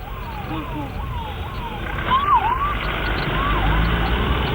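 An ambulance siren wails in a repeating up-down pattern as a convoy moves away from a plane crash site in Delhi, loud and steady over traffic and crowd noise, with voices talking underneath.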